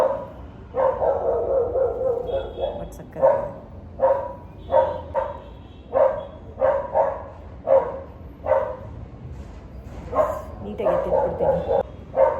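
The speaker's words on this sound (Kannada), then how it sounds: "ಯಾಕೋ ನಮ್ಮ ಮನೆ ಮುಂದ್ಗಡೆ ಇರೋ ನಾಯಿ ಬೊಗಳ್ತಾ ಇದೆ" A dog outside the front of a house barks in repeated short bursts at moderate distance, with someone speaking continuously over and between the barks.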